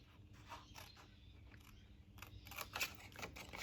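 Scissors snip through the bottom of a paper lolly bag being made for Halloween, a run of close, crisp cuts that grows louder and quicker toward the end over a faint low hum.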